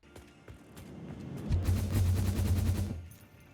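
A cannon in a video game fires a rapid burst of heavy booming shots, building into a dense, loud barrage that rumbles for over a second before cutting off.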